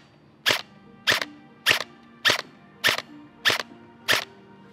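Seven sharp, evenly spaced shots from a Specna Arms CORE M4-style airsoft AEG firing BBs, each a crisp close snap with a brief mechanical report, semi-auto with about half a second between shots.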